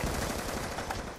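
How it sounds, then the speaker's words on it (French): Rapid burst fire from an M216 rifle in Call of Duty on the Nuketown map, a dense, steady run of gunshots throughout with no talking. "Le M216 qui tire des rafales"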